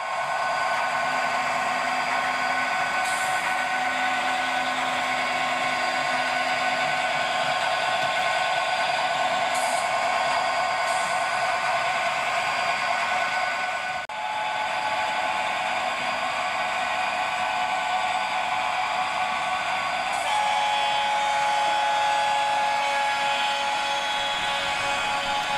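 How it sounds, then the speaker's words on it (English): Two Class 66 diesel locomotives on a top-and-tail Sandite railhead cleaning train, a steady droning engine rumble at a moderate distance, holding evenly throughout with a few faint higher tones, no talk. "I think we've got both horns going and both locos."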